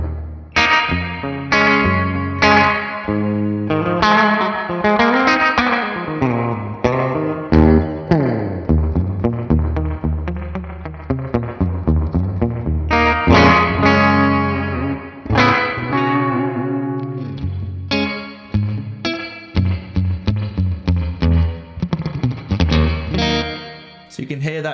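Electric guitar played through an ALABS spring reverb pedal, drippy, strummed chords and riffs ringing out continuously with a wet, splashy tail.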